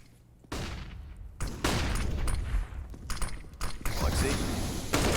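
Pistol gunfire from a P250 in a Counter-Strike: Global Offensive match on Mirage, sharp shots repeating through a dense game mix with a caster talking over much of it.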